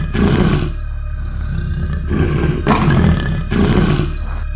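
A human voice imitates a tiger's panting, growling breath in loud, rough bursts, three or four heavy rasping breaths close to the mic with short gaps between them.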